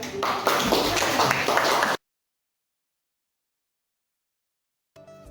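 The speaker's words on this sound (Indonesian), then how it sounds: "Berikan aplaus untuk kelompok 3" A classroom group claps for a student team, a dense burst of applause lasting about two seconds before cutting to silence.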